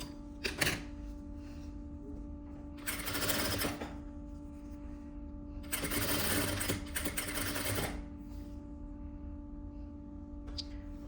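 A sewing machine stitches a vest in three short runs of rapid mechanical whirring, separated by pauses filled with a steady electrical hum and faint handling noises, with a light click near the start and another near the end.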